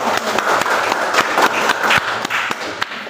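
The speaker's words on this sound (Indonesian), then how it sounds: "kita beri aplaus untuk kelompok" Classroom audience applauding a group of teachers after their presentation, a steady dense burst of clapping with sharp individual claps standing out, close and moderately loud throughout.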